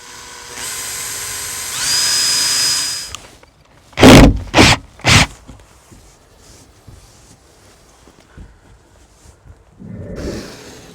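A cordless drill drives screws in a few short bursts, each spinning up and stopping, close by, with quiet pauses and a faint rumble afterward.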